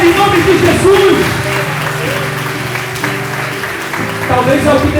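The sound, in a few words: church congregation applauding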